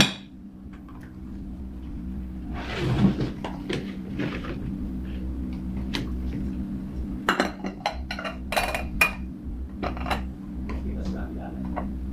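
Serving spoons and utensils clink and scrape against pots and plates while chicken shawarma with vegetables and orzo is dished out. Sharp, irregular metallic taps land close by, with a voice speaking faintly in between.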